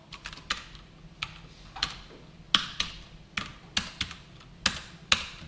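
Keys of a computer keyboard clicking during Java coding work, a dozen or so light, sharp taps at an irregular rhythm, close and fairly quiet, with no one talking.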